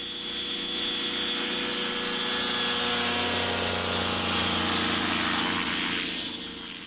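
A microlight aircraft accelerates down a makeshift runway for takeoff, its propeller engine droning steadily and swelling louder, then easing slightly toward the end, heard alone and fairly close.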